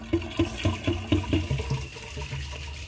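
Water gushes into a Glacier Bay high-efficiency toilet bowl in a series of quick, rhythmic pulses, like a container being poured into a bowl, then tapers into a steady lower flow.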